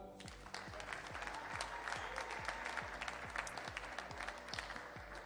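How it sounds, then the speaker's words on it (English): Sustained applause from a crowd at a squash club in the Dutch squash Eredivisie, steady and continuous clapping filling the room at moderate loudness. "what I'd really like to do is have a massive round of applause for our guest today"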